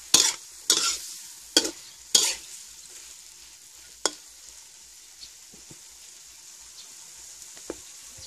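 Asparagus and pork belly are stir-fried in a pan, opening with several loud, sharp scrapes and clatters of the spatula, then easing into quieter, sparse stirring over a faint background sizzle.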